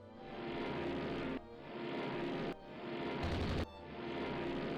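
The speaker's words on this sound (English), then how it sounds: "Multiple torpedo hits." Torpedoes striking warships in the naval strategy game Rule The Waves 2, heard as sustained, heavy rumbling booms that swell and cut off in three or four loud bursts, with no talking.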